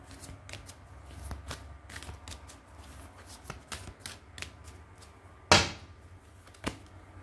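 Angel Oracle cards being shuffled by hand, a run of soft papery riffles and taps close up, with one sharper louder slap near the end, no talking.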